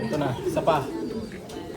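Pigeons kept for racing coo softly beneath someone talking close by, the low murmuring calls blending into his speech through the short stretch.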